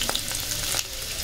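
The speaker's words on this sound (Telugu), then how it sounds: "వేసుకొని ఫ్రై చేసుకోవాలి." Onion, chilli and carrot fry in hot oil as a continuous, fairly loud crackling hiss, broken by a few sharp pops and spatters.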